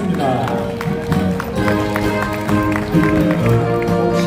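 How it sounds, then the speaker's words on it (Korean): A crowd at an inauguration ceremony for a regional association president claps in steady, dense applause to welcome guests, with busy background noise and voices mixed underneath. "여러분 따뜻한 박수로 환영해 주시면 고맙겠습니다"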